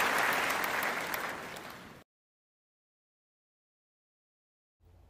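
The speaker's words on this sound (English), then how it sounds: "here's a big round of applause" An applause sound effect: a crowd claps loudly and steadily for about two seconds, then cuts off abruptly into silence.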